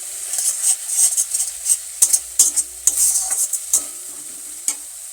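Turmeric, cumin and coriander powder sizzling in hot oil for a Bengali fish curry, a steady hiss broken by repeated scrapes and clinks of stirring.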